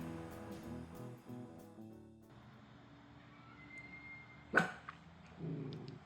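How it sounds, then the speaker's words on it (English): A dog makes a few soft vocal sounds at first, then lets out one sharp, loud bark after a quiet stretch, followed by a short low grumble. The room is otherwise quiet and no one speaks. "I watched this film with my dog Aspect Ratio, and she seemed to have a few things to say about it"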